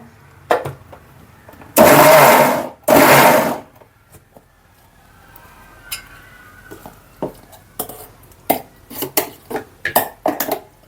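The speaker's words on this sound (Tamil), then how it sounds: "இந்த மாதிரி விட்டு விட்டு அரைச்சி எடுத்துக்கோங்க மிக்சியில்" A kitchen mixer grinder runs in two short loud pulses on spinach greens for keerai kadaiyal, followed by scattered clinks and taps of the jar and utensils.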